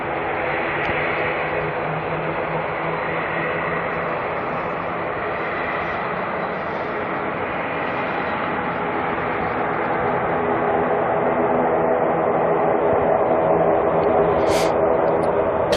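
Jet airliner engines spool up at Auckland Airport at night, a loud, sustained broadband roar that holds steady and swells slightly toward the end, heard from a distance with no talk.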